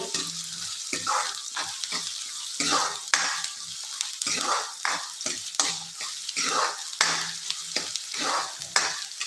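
Onion with fresh curry leaves being sautéed until golden for Solapuri peanut aamti, a steady close sizzle broken by repeated scraping stirs of a spatula in the pan, no voices.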